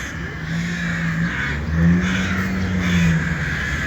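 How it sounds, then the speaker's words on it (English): Stirred-up crows caw in a series of drawn-out calls over a constant outdoor rumble, with the calls fairly close and loud. "Oh, now the crows. Should I yell at them? They seem to be stirred up."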